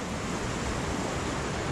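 Rushing waterfall beside a trail in Grand Teton National Park, heard as steady, dense broadband water roar throughout, close and continuous with no voices.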